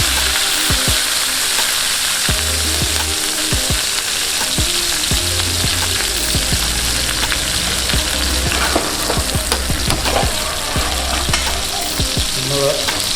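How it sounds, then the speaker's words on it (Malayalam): Curry leaves fry in coconut oil in a hot pan with a steady, loud, dense sizzle and crackle throughout, broken by repeated low thumps and scrapes of stirring, and no voices. "നമ്മൾ കുറച്ച് കരിവേപ്പില ഇതിലോട്ട് ആഡ് ചെയ്യുകയാണ്. കുറച്ച് നല്ല വെളിച്ചെണ്ണ ഒഴിച്ച്"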